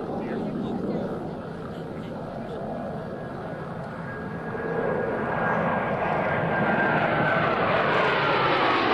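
A US Navy Blue Angels jet formation makes a flat pass at an airshow, with a steady, building engine roar that grows louder toward the end while an announcer speaks over it.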